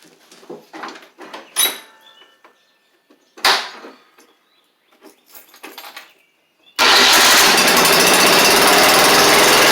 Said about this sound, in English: that starter sounds horrendous, but it works